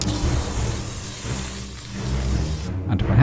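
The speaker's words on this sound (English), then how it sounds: "applying some protective matte spray" Aerosol can of protective matte varnish sprayed onto a painted Star Wars Imperial Assault officer miniature, a loud continuous hiss that dips briefly midway and cuts off near the end.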